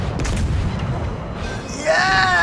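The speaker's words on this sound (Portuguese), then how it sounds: "Estouramos a munição." A warship's ammunition store detonates in the naval combat game World of Warships, a heavy rumbling boom with crackling debris that swells and lingers, with no talk over it.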